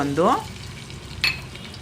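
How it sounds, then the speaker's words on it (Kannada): Chopped onions going into a pot of hot oil on a stove, with a bright sizzle as they hit, then a steady frying hiss. A second short crackle follows partway through. No one speaks. "ಎಣ್ಣೆ ಬಿಸಿ ಆಗಿದೆ. ಈರುಳ್ಳಿ ಹಾಕ್ಕೊಂಡಿದ್ದೀನಿ. ಫ್ರೈ ಮಾಡ್ಕೊಳ್ಳೋಣ ಈರುಳ್ಳಿನ."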